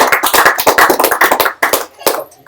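A round of applause at a live-streamed tech meetup, close and loud hand clapping from a small audience that builds briefly and then tapers off into a few scattered final claps.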